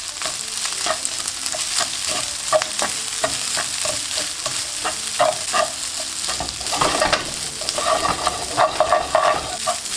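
Boiled rice being stir fried in spice oil over medium heat, with rapid rhythmic scraping and clattering strokes over a constant close sizzle.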